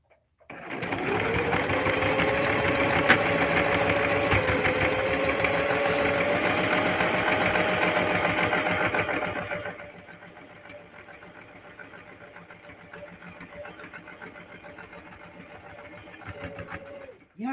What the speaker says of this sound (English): So now, I'm over here at the sewing machine. And I am going to go sew this down.